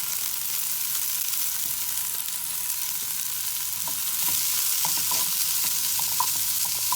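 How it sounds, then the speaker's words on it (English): Onions and peppers with a little salt sauté in a hot pan, giving a steady broadband sizzle throughout, joined in the second half by scattered light clicks and scrapes of stirring. "we're going to saute them with a little bit of salt until they wilt"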